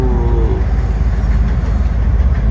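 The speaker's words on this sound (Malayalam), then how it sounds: "ട്രെയിൻ വരുന്നു." A train rolling along a railway track in Uzbekistan, a steady close rumble of wheels and wagons with a low continuous roar throughout and no voices.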